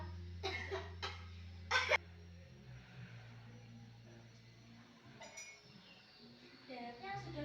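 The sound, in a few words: patient coughing during effective cough exercise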